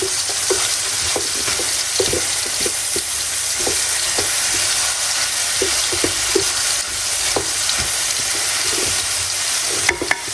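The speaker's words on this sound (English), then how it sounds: "give this a stir, with the vegetables in" Cauliflower fried rice with vegetables stir-fries in a pan, a steady loud sizzle throughout with repeated quick scraping and tapping of the utensil against the pan.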